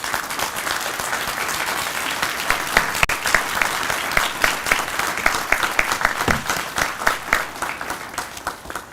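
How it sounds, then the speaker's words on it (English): A large audience at a Ph.D. hooding ceremony gives graduates a loud, sustained round of applause, dense clapping that continues steadily throughout with no talking. "Let's give our graduates another round of applause."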